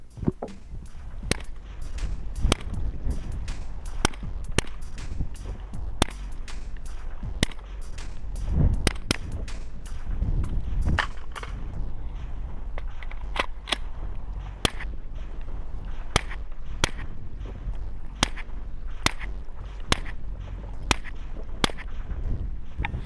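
Rifle shots through a SilencerCo Saker 762 suppressor fired one after another at a steady pace, each a sharp, clipped crack with a short tail; subsonic rounds first, then supersonic rounds sounding slightly snappier and more spaced.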